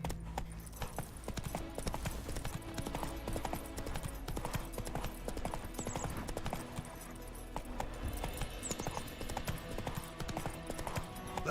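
Roach, a horse in The Witcher 3, trots along with steady rhythmic clip-clopping hooves, moderately close amid soft background game ambience.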